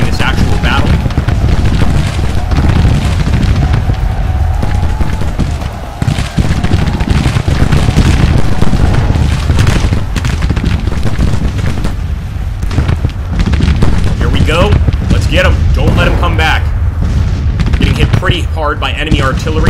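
Cannon fire and booming blasts from Civil War artillery in the strategy game Grand Tactician: The Civil War rumble continuously and loudly, with repeated heavy thuds under a voice talking throughout.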